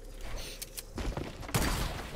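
Gunfire in a Zone Wars match, a burst of muffled shots and thuds from a distance under game background noise, ending in a louder close blast.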